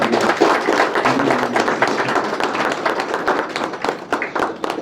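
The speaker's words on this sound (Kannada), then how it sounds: "ನಮ್ಮ ಓಂ ಪ್ರಕಾಶ್ ಸಾಹೇಬ್ರಿಗೆ ತುಂಬ ಹೃದಯದ ನಾವೆಲ್ಲ ಜೋರಾಗಿ ಚಪ್ಪಾಳೆ ತಟ್ಟುವ ಮೂಲಕ" An audience at a memorial gathering applauds for Om Prakash, dense steady clapping of many hands at close range, with no talk over it.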